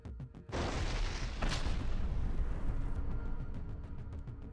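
FAB-1500 aerial bombs blasting troop installations in Stepnohursk, Zaporizhzhia region: a sudden heavy boom gives way to a long, dense, rumbling roar that holds steady for several seconds and then slowly fades.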